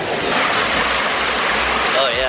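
Small freshwater waterfall on Ilha Grande, Brazil, pouring in a steady, loud, close rush of water that fills the short moment without a break.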